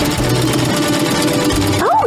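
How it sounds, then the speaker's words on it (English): A sewing machine stitches fabric pieces together for a craft project, a steady mechanical rattling hum running close and continuous for about two seconds, with a voice rising briefly near the end. "Time to sew the pieces together!"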